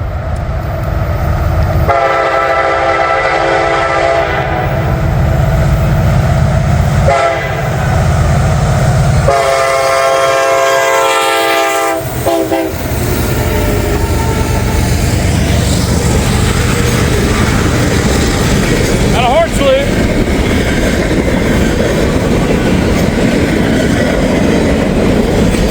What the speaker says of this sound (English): Here comes the train, folks.